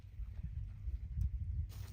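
A horse's hooves clop softly and steadily on the ground during a groundwork training session, low and muffled, with no voices.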